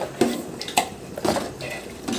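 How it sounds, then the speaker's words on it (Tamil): A spoon stirs ginger garlic paste in a large biryani pot for fifty people, with sharp metallic scrapes and clinks against the pot at an irregular rhythm, close and fairly loud. "நல்லா கிளறி விட்டு ஒரு 1/4 மணி நேரத்துக்கு நல்லா கிண்டினோம்னா தான் பச்சை வாசனையே போகும்"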